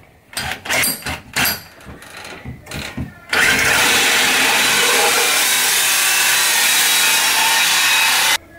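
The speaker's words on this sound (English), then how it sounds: "I can get straight into drilling the main hole out" A few short bursts of a drill biting into a wooden door, then a loud, steady drilling whine that runs continuously for several seconds before stopping.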